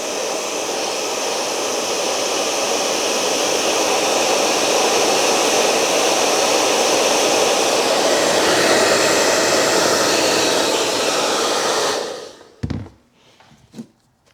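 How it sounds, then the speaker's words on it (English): A hair dryer blows loudly and steadily for about twelve seconds, heating a dented exhaust, then cuts off abruptly, followed by a few soft knocks and handling sounds. "So we went with a hairdryer, and it's doing the job, to be honest."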